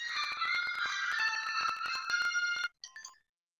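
Theme music played as a phone ringtone, a bright electronic melody of steady tonal notes lasting over two seconds, followed by a short broken fragment before it cuts to silence.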